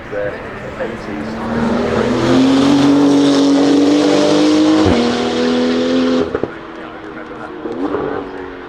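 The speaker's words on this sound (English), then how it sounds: "Various motor companies have managed to turn this into a road-going Porsche 935" Porsche 935 road conversion with a 3.8-litre twin-turbo flat-six driving at Goodwood Festival of Speed, a loud close engine note climbing through revs, a brief lift, then fading away as a commentator talks over it.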